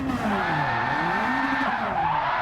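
Gran Turismo 7 race car on slick tires launched in second gear, engine revving loud and steady while the tires squeal and skid continuously.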